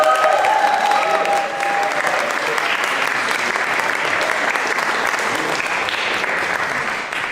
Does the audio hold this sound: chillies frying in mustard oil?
no